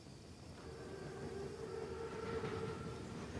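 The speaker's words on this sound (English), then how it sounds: "Train's right on time. Biggest train I've ever seen." German armored train, a Panzerzug, rumbles past in a World War II shooter game, a low, rising rolling drone with faint whistle-like tones, heard alone and growing louder as it approaches.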